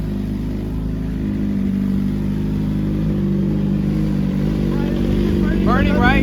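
A 2024 BMW S1000RR motorcycle with a full-titanium SPARK exhaust idles after a cold start, a steady low engine drone close by with a slight exhaust leak, while voices chatter over it near the end.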